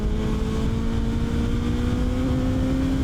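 A Suzuki Hayabusa motorcycle engine hums steadily while riding gently on a road still damp from rain, a continuous low drone with a faint rising tonal whine, no voices.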